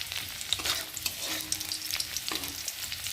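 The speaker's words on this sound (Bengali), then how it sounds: "পেঁয়াজ রসুন এগুলো একটু ভালো করে লাল লাল করে একটু ভেজে নিতে হবে।" Onion and garlic frying in oil as a tempering for red lentil dal with tomato, a steady close hiss with scattered crackles and a few stirring scrapes, no voices.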